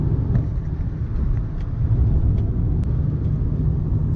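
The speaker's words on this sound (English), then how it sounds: "And now I'm driving this pile of shit Celsior back home." A Toyota Celsior (JDM Lexus LS400, UCF20 VVT-i) being driven, heard from inside as a steady low road and engine rumble with no talk.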